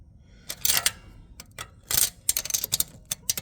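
A metal tape measure being handled during a support installation job, with a series of sharp clicks and rattles in short bursts, close by, and no talking.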